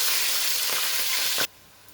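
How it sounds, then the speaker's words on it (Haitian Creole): Spices hit hot oil in a pot while Haitian white rice is being cooked, giving a loud, steady, close sizzle that stops abruptly partway through, leaving quiet. "On va mettre épices frit dans l'huile là."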